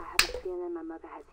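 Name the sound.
hand clap imitating a high five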